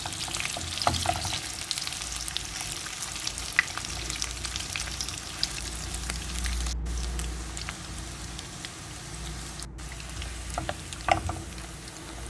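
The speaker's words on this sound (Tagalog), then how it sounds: "pa-fry lang natin yung ating sujok or ang ating chorizo." Chorizo sizzles in olive oil in a frying pan over medium-high heat, a steady close crackle and spatter with occasional louder pops, heard on its own without talk.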